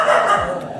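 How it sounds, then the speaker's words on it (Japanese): A dog barks near a guesthouse in Varanasi, India: a single loud, close bark with a short yelping tail, alone without talk. "ワンちゃんちょっとやめてよ"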